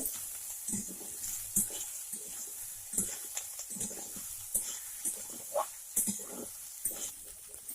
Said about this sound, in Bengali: চিপসানো সয়াবিনগুলো এবার আমি অল্প ভেজে নেব। এইভাবে নাড়ব।